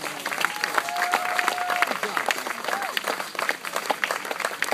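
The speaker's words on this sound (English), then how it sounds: "so let's give the Goldies and the Jennings a quick round of applause" A wedding crowd applauds steadily, with dense clapping and a few cheers throughout.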